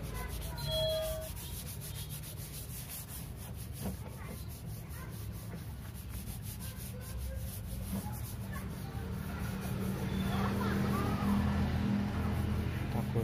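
Autosol polish rubbed by hand onto a plastic surface to remove water spots: a continuous close scrubbing friction that grows slightly louder and rougher toward the end, with no speech.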